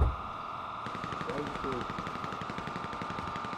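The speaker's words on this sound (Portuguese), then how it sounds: "Eles estão atirando" Gunfire in the video game GTA V during a police shootout at a bank, a steady rattle of rapid shots running throughout under game noise, with a voice speaking briefly.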